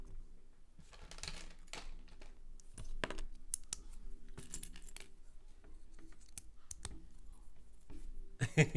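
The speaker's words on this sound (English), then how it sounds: "You love that clicking sound, Scott?" Plastic building bricks from a train station set click and snap together in quick irregular bursts, close and fairly faint, with light rattling of loose pieces between the clicks.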